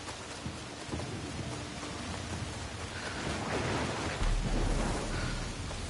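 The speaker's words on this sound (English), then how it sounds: "The noise the storms make in the trees and things is impressive." Thunderstorm in Assassin's Creed Shadows, with steady heavy rain and wind rushing through trees, a continuous dense roar that swells toward the end with a deep rumble of thunder, no voices.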